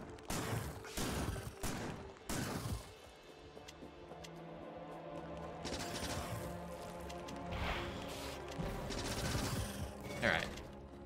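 Rapid shotgun blasts and crashing impacts fire in a video game against nearby enemies, with dense overlapping bursts over a steady bed of game noise.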